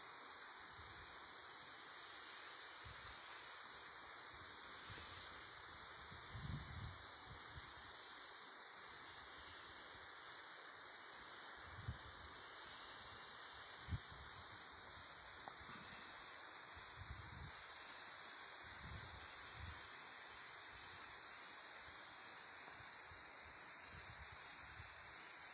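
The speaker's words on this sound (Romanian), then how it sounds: "Iată și frumoasa cascadă Caraiman." The Caraiman waterfall in the Bucegi Mountains roars as a steady, broad rush of falling water, continuous and even over the whole stretch, with occasional faint low thumps beneath it and no voices.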